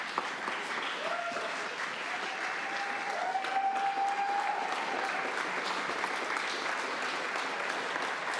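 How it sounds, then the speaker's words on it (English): An audience at a city council work session applauds city essential workers: sustained, even clapping from a roomful of people, moderately distant, with a faint voice briefly heard under it. "Give them a round of applause."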